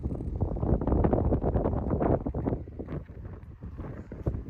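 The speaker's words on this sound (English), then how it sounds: "It's very windy." Strong wind on the Norwegian coast buffets the microphone in loud, uneven gusts that rumble and roar continuously, with no one talking.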